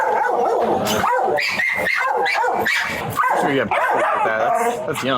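Many dogs, adults and puppies, bark, yip and whimper inside a hot trailer, a loud, dense and continuous chorus of barking close by, with a voice speaking briefly over it.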